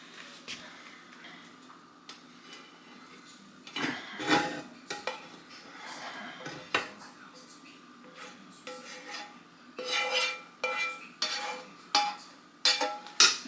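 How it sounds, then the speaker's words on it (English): Cooked chili meat gets scraped and dumped into a small stock pot, with scattered metallic clinks, scrapes and taps of the utensil against the pot in irregular bursts. "I have to use my small stock pot to put this stuff in"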